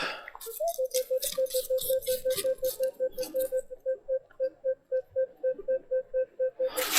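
A Minelab Equinox 900 metal detector sweeping in a forest gives a steady run of short, evenly spaced mid-pitched beeps, about two per second, loud and close, after a brief burst of rustling.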